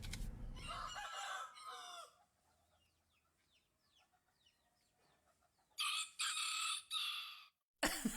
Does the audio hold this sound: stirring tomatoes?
no